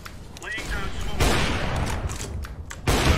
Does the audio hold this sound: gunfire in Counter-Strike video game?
yes